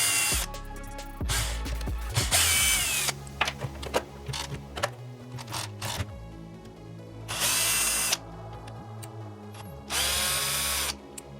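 A power drill whirs in several short bursts while it backs screws out of the rear spoiler mount on an Arrma Typhon 6s RC car, with small clicks and handling noises between the close, loud runs.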